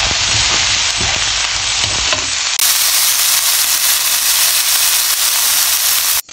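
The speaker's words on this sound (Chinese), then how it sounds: "蒜块和姜末先拿去煸炒" Garlic, ginger, pork and hyacinth beans stir-fry in a wok with a loud, constant close sizzle and hiss, turning and scraping sounds early on, and no speech.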